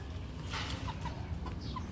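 Bulik chickens, young stags and pullets, cluck and chirp in short, scattered calls over a steady, noisy yard background, with no talking.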